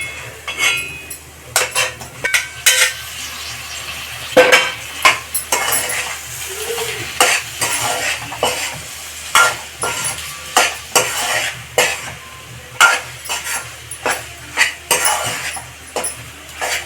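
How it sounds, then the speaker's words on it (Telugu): Ivy gourd being stirred into hot masala in a pan, a steady sizzle broken by repeated scraping and clinking of a metal spoon against the pan, loud and close with no talking. "ఇందులోకి మనం ఇప్పుడు దొండకాయ వేసుకుందాం. కొంచెం వేగాలి కదా ఈ మసాలాలో దొండకాయ."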